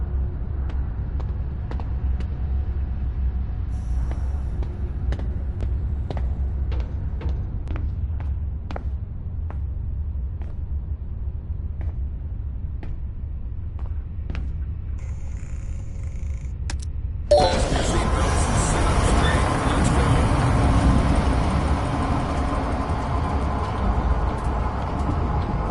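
Train in the video game Zoochosis, a steady low rumble with faint rhythmic clicks at first, then a louder, fuller rolling roar as it gets moving around 17 seconds, running continuously without speech.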